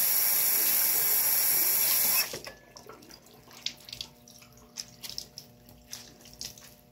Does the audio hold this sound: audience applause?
no